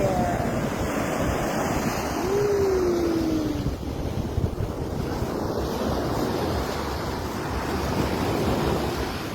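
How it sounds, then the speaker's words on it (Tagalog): Ocean surf washes steadily onto a resort beach, a continuous roar of breaking waves with heavy wind buffeting the microphone throughout. "the waves are over there"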